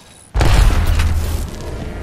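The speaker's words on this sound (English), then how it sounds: "Throwing thermite grenade." A thermite grenade goes off in the Apex Legends video game: after a brief quiet, a sudden loud boom gives way to a sustained, roaring hiss of burning that fades only slightly over two seconds.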